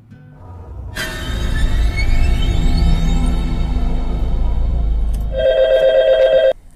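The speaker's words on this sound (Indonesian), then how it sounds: "telepon lagi-lagi berdering" Telephone in a horror film scene, a sudden loud electric bell ringing in a sustained metallic clatter over a deep rumble, then a cleaner electronic ringing tone near the end, close and unaccompanied by speech.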